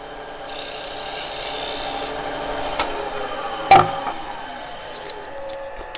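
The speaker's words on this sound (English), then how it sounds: "Sometimes I'll use a little shear scraping method here just to shave it down." A tool scrapes against a turned segmented wooden bowl on a lathe in a steady, close, soft rubbing rasp, with one sharper scraping burst near the middle and no speech.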